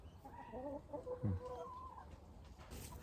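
Low, soft clucking from chickens close by, a few short throaty notes over a faint background hum.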